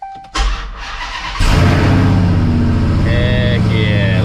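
A Hellcat-swapped Dodge Dakota cranks briefly, then fires up with a loud burst and settles into a steady, deep rumbling idle close by, with a faint whine riding over the running engine.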